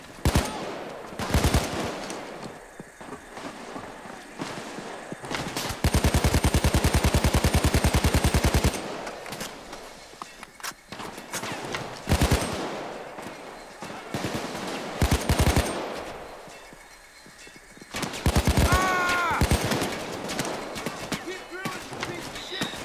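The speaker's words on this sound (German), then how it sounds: "hey, von wo schießen die denn?" Police gunfire in the PayDay 2 video game comes as bursts of rapid automatic shots, with a dense volley in the middle and more near the end, mixed with game noise while players talk over it.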